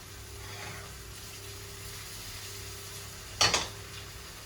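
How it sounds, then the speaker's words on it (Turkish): Faint, steady frying sizzle of sliced onion rings in a pan, with a brief clatter of a utensil against it partway through. "soğanları halka halka doğradım. Çok fazla dağıtmadan tavaya ekleyeceğim."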